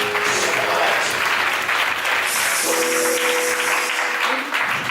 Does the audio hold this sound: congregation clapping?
yes